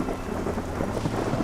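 Steady rain falls with a low rumble of thunder in an equatorial cloud forest in Colombia, a dense, even wash of sound with no voices.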